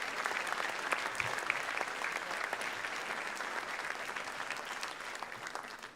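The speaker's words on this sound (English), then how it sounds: "offer up one more round of applause for everyone who received an award this evening" Steady, dense audience applause fills a school academic awards evening, honouring the award recipients, sustained at an even level throughout with no talking over it.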